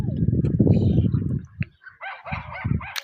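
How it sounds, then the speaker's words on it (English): Dogs bark and yip at a distance during a walk along the beach from Fleetwood to Rossall, a series of short, thin calls following close, loud talk that dominates the first half. "I can hear some dogs over there as well."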